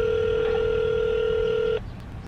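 A phone dial tone or call tone holds steady and fairly loud for almost two seconds, then cuts off and leaves a faint line hiss.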